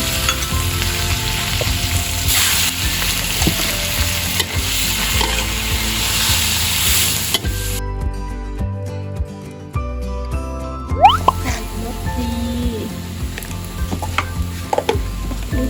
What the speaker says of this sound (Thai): แล้วก็ใส่พริกกับกระเทียมที่เราสับนะคะ ผัดให้หอมนะคะ